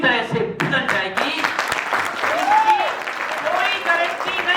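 An audience claps at a Hindi motivational speech, a scattered burst of applause running under a voice that keeps speaking over it.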